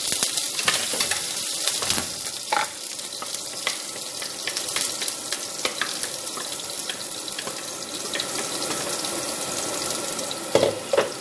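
Garlic frying in Arab butter (samna) for an okra and chicken stew, a steady close sizzle and crackle with occasional stirring scrapes and water-like hiss, no voices.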